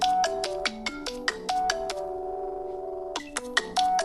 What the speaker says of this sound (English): Just some of the ringtones.